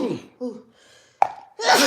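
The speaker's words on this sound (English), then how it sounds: "Sneeze." A sneeze bursts out in a room during a casual live chat, one sharp close explosive burst framed by people talking before and after it.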